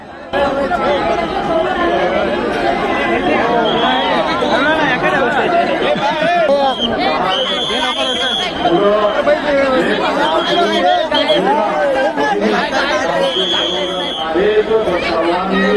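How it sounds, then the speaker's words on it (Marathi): Huge, dense crowd at Bhima Koregaon on 1 January, near the victory pillar: continuous loud chatter and babble of many voices throughout, with a few brief higher tones cutting through. "खूप म्हणजे खूप अशी जाम गर्दी झाली बघू शकता"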